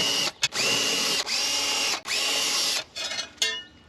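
A power drill bit marks hole spots on a brick wall while a hose hanger is installed, in a series of four loud whining bursts separated by short pauses, close up with no talk.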